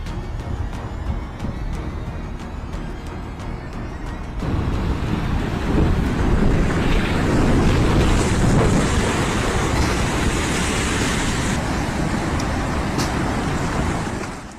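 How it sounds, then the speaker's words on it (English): Tsunami floodwater rushing through rivers in Sendai, carrying homes and vehicles: a steady, dense roar of churning water and wind, growing louder and heavier after the first few seconds and holding there without speech. "It was a dense black flood carrying homes, vehicles, and fragments of people's lives."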